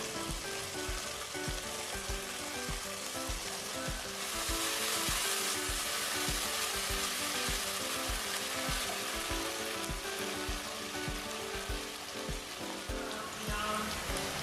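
Onion frying with sliced chili, gochujang, soy sauce and fish sauce in a pan gives a steady, close sizzle throughout. The sizzle swells louder midway, with faint stirring scrapes and low background music beneath.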